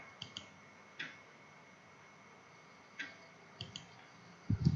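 Mouse clicks on a computer opening Microsoft Excel 2013: a few faint, sharp clicks spaced irregularly over a quiet room hum, with a couple of closely paired clicks and a low thump at the end.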